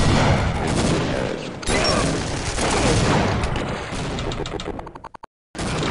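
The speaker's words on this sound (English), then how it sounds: "Two rockets on him." Rocket and shotgun fire in Team Fortress Classic, a dense barrage of blasts and booms over game noise, ending in a rapid stutter of shots and then a short dropout.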